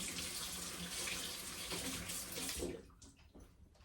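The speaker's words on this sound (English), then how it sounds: "Now I need to wash my hands because I've got molasses all over them." Tap water runs steadily as molasses is rinsed off hands at a kitchen sink, a broad close hiss that stops abruptly near the end, leaving faint drips and splashes.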